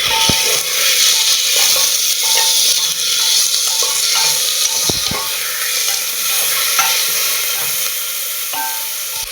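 A chicken leg piece sizzles loudly in a hot pan for coriander chicken soup, a strong steady hiss with scattered sharp pops and occasional utensil clinks, close and without talk.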